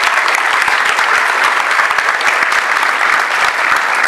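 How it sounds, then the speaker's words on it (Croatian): Large audience applauding the illustrators at a Croatian book launch, steady dense clapping throughout, loud and sustained with no talk over it. "Pozdravimo velikim pljeskom ilustratori."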